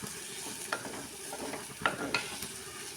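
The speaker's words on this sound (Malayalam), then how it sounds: "ഇനി അതിലേക്ക് കൂർക്ക ചേർത്ത് കൊടുക്കാം. ആവശ്യത്തിനായ ഉപ്പ്. എന്നിട്ട് ഇത് നല്ലപോലെ ഇളക്കി കൊടുക്കാം." Chinese potatoes (koorka) tossed with salt and chilli powder in a pan, a soft steady sizzle with a few scraping stir strokes and light clinks, heard close with no speech.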